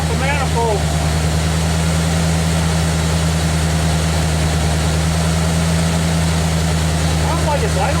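A 1987 Ford Bronco engine idles steadily after being installed, a loud low rumble with a constant hum under it, while people talk briefly nearby.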